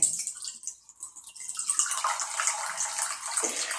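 Cold water pours into a small bowl in a steady, close splashing stream lasting a few seconds, briefly thinning before running on evenly, with no voices.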